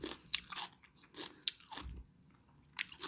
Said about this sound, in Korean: 줄기가 아삭아삭해요